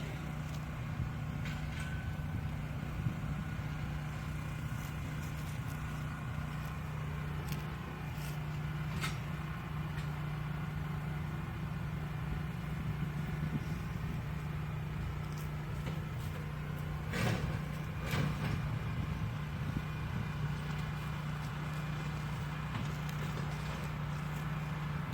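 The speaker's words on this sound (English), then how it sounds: "Excuse the noise from the tractor." A tractor's steady low engine drone runs throughout in a cemetery, loud and constant, with occasional faint knocks and rustles over the top; no talking.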